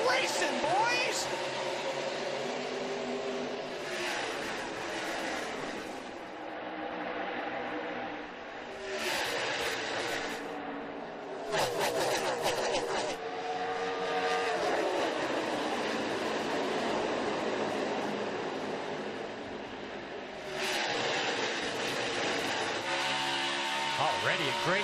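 NASCAR stock cars roar past at the start of the 2018 AAA 400 Drive for Autism, a loud, dense wall of engine noise that surges and swells, with a race commentator talking over it.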